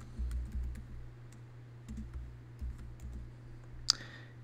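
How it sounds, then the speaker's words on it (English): Light keystrokes typing a short phrase on a computer keyboard, soft scattered clicks over a steady low hum, with one sharper tap near the end. "So in the text box here, you will just simply type in email us."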